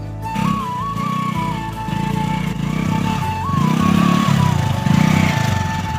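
A motorcycle engine runs steadily after starting, following a fuel tank air lock, a loud close putter with pulsing revs and a whistling tone riding over it.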